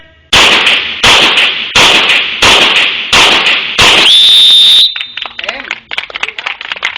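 Six sharp, loud gunshots at a Thai shooting range crack in an even rhythm about a second apart, and a shrill electronic timer beep rings out after the last shot. Faint clatter and speech follow.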